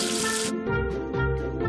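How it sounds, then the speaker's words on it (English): Cartoon water rinsing soap off a number in a kids' counting game, a short bright gush of running water that stops abruptly, followed by a chiming musical jingle. "Wash away the soap with water."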